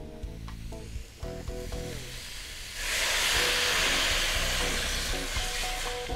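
Water poured into a pan of sautéed onions for an onion soup stock erupts into a loud, steady sizzling hiss. Softer frying and stirring clatter comes before it, and no voices are heard.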